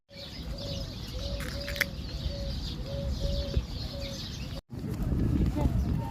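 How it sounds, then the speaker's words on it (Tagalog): Birds chirp and coo in a city park, repeated short calls over steady outdoor background noise, with people talking nearby. "Oh, we'll go to the birds."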